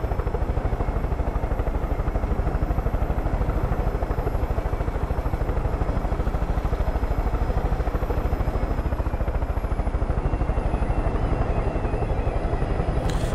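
A helicopter flying in the video game Far Cry 5: a loud, steady rotor chop and engine whine that continues throughout without a break, with no voices over it.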